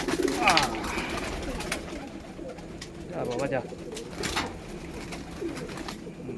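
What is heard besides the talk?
pigeons cooing while entering a net enclosure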